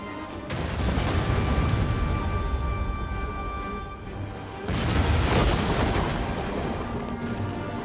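Siege weapons fire on a gatehouse in a Rome Total War II battle, dense rumbling booms and crashes that swell into a loud, continuous barrage, with a sharp new surge partway through.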